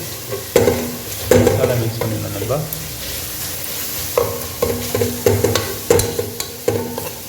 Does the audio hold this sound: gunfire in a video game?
no